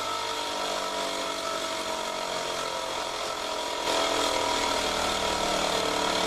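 A homemade wire-fencing machine running, a loud, dense mechanical clatter of gears and ratcheting parts that holds steady and grows slightly louder partway through, with no talking.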